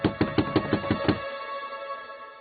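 Knocking on a door: seven quick, sharp raps in an even rhythm, close and clear, followed by a quiet tail of room tone with no talking.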